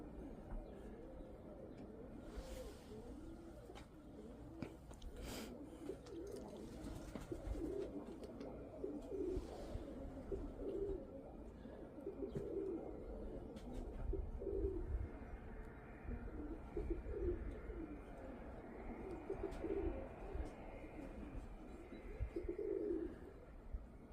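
Pigeons cooing outdoors, with repeated soft low coos in an irregular rhythm over a steady background rumble, and a few brief higher chirps.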